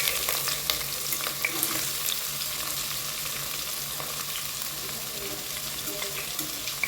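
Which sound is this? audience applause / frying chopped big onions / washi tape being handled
frying chopped big onions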